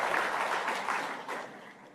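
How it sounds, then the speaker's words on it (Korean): A church congregation applauds its choir during a Sunday service, a quiet, continuous wash of clapping from a distance that gradually tapers off. "갈릴리 성가대를 위해서 다시 한번 박수로 격려하겠습니다."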